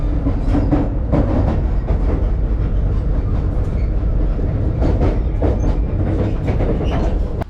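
Amtrak Downeaster passenger train rolling along the rails into Portland, Maine, a loud, steady rumble with rhythmic clickety-clack from the wheels throughout, heard from on board or close by.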